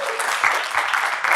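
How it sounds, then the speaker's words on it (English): A seminar audience bursts into applause for a participant, dense clapping that stays fairly loud and even for the whole short stretch, with faint voices beneath. "Ladies and gentlemen, give him a round of applause."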